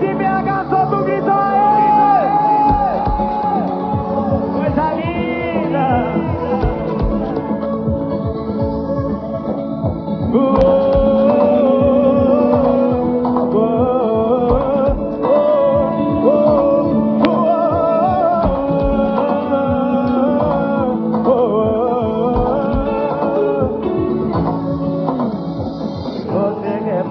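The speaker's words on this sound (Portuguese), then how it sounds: "Quem tá feliz em BH, solta o grito." A large crowd at a country music concert in Belo Horizonte shouts and cheers loudly, many voices yelling and singing together in a continuous roar that rises and falls throughout.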